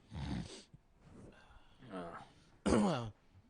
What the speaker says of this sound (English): made a nose snorting, clearing my throat voice